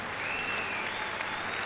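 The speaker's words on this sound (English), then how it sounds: "Give him a big round of applause." An audience at the Crufts 2013 freestyle heelwork to music show claps in a steady, dense burst of applause, moderately loud and without talk.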